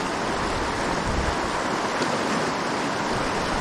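Fast river water with white water on top rushes in a dense, steady roar, loud and close with no break and no voices.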